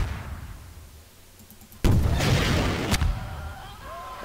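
A grenade goes off in Garry's Mod as a sudden loud boom after a quiet lead-in, followed by a rumbling debris tail and a second sharp burst about a second later.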